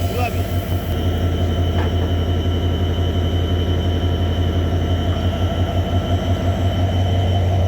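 Heavy locomotive hauling the Benapole Express, an American-built engine, idles at a station in Jessore, Bangladesh, with a loud, steady diesel rumble and clanking throughout and faint background voices.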